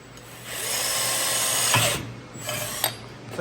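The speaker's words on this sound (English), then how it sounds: "So we're drilling a hole at an angle, so we can weld a nut on the other side of it at an angle" A Milwaukee power drill bores an angled hole through thick metal for a stage prop repair, a loud sustained whirring grind that spins up, runs for about a second, then stops and gives a few short bursts.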